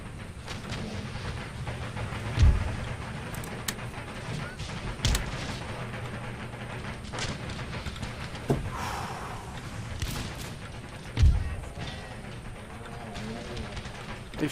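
Cannon fire booms from a Napoleonic-era battle in Empire Total War, four heavy low thuds spaced a few seconds apart over a constant rumbling battlefield din.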